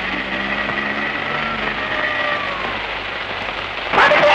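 Steady rain hisses down in an even, continuous wash, with a faint tonal hum underneath and a sudden louder splash of noise right at the end.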